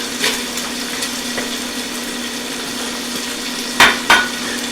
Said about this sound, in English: now that our bacon's rendered down pretty well, I'm going to go ahead and I'm going to throw in the onions.